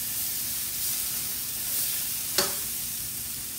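Ginger goes into a hot pan of crispy tofu, giving a steady close sizzle and hiss of frying oil, with a sharp crackle partway through and another at the very end.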